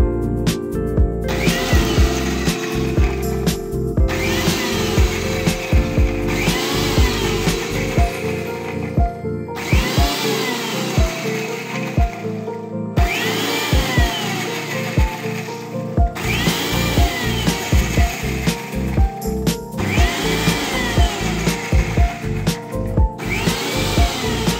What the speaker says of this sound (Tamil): நல்லா அரைச்சு எடுத்துக்கணும் garlic துண்டு எதுவுமே இல்லாம நல்லா அரைச்சுக்கணும்